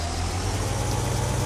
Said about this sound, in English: See how it automatically revs the engine?